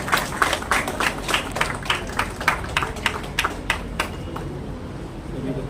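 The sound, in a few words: audience clapping to welcome guests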